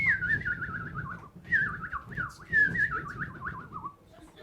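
A boy whistles an imitation of willow warbler song, a run of bright descending whistled phrases repeated about four times, close and clear over low background murmur.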